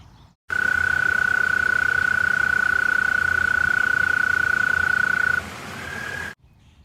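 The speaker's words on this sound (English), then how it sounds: "a really common toad that you may find is the American toad" A long, steady high-pitched American toad trill rings out loud and close for about five seconds, then a shorter, slightly higher trill follows, over faint background hiss.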